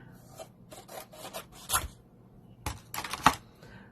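Card paper is trimmed down to size for a birthday card, with a series of short close rasping and slicing strokes from the cutter, irregular and fairly soft.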